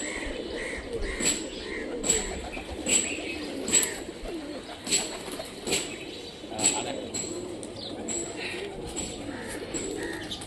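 Rajshahi Giribaz pigeons coo in a repeated series of soft, rhythmic calls at close range, about a dozen in a row, over a faint background hum.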